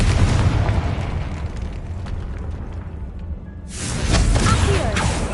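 A Confringo fire spell exploding in Hogwarts Legacy sends out a loud, rumbling blast that fades away, then a second burst of booming debris crashes in again.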